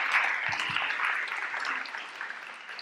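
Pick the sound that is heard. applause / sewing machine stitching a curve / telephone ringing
applause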